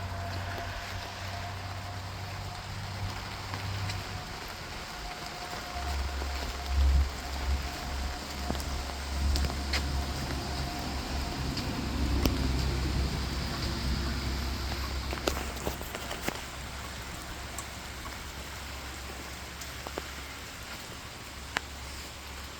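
Steady rain falls outdoors on a Nebraska farm, a soft continuous hiss with scattered drips and light knocks, a low hum underneath, no one talking.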